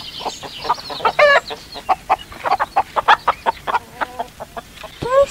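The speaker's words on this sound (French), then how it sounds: "Ce sont les poules avec les poussins." Farm hens with their chicks clucking in a rapid, uneven run of short close calls, with a few higher peeps mixed in and one rising squawk near the end.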